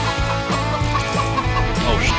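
Chicken clucking in the LEGO Fortnite video game, a series of short fowl calls repeating over a steady layer of game music and effects.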